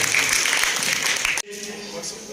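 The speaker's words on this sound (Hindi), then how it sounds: "आकर के तालियों की गड़गड़ाहट के बीच में उनसे मेरा निवेदन है" Crowd applause at a political rally: a dense, bright wash of clapping that cuts off abruptly partway through, followed by a quieter room with a faint background hum.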